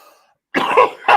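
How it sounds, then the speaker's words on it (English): Two harsh coughs close to the mic after a brief pause, the second shorter than the first. "Do you want to cough again?"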